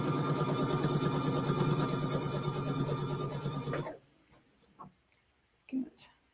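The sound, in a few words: Luminaire sewing machine stitching quilt binding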